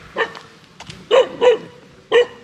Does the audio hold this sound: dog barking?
yes